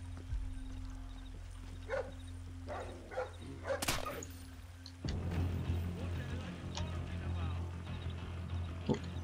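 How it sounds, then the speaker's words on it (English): A guard dog barks a few times in the stealth video game Splinter Cell Blacklist, short close yaps over a steady low hum and game noise. "I think the dog smells me."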